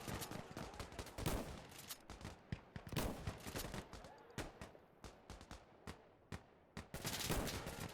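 Gunfire in the video game Insurgency Sandstorm, dense rapid bursts of shots cracking one after another across the whole stretch, some near and some farther off, at low overall level with faint voices mixed in.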